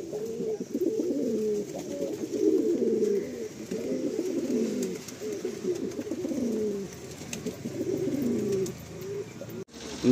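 Madrasi and Andhra pigeons coo continuously after release, overlapping throaty rolling calls close by at a steady moderate level, with a brief pause near the end.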